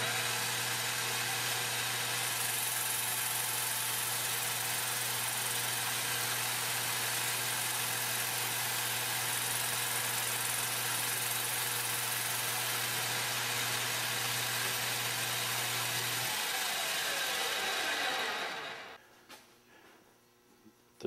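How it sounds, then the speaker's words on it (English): A 1965 South Bend lathe runs steadily while turning a wooden gear blank, giving a continuous even hum and whir, then winds down and falls quiet toward the end. "All of my turning is done on this 1965 South Bend lathe."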